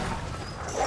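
A hostile dog enemy in Bloodborne gives a short, near bark or yelp over the game's ambient sound.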